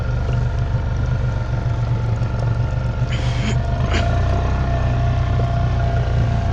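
A four-wheeler engine droning steadily and loudly up close as it drives out of a creek with a strong current, a constant rumble that never lets up.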